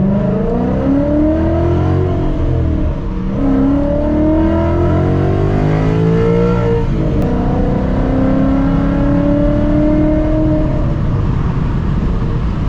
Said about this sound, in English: I'm just gonna slowly roll out of first gear here, get up a little bit before I fully punch it